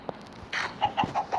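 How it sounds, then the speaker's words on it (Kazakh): Hens and chicks cluck in a short run of separate calls around a newly built chicken house, close by with no talk. "Да, вот балапан."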